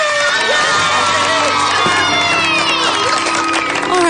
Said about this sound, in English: Kids, there's no need for all this excessive cheering.